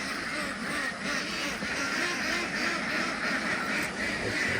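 A flock of farm ducks quacks continuously in a dense, steady chorus around feeding time, the overlapping calls filling the whole stretch with no talking.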